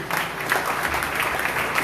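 A church congregation applauding during a Sunday worship service, a dense steady wash of many hands clapping together, fairly loud and continuous.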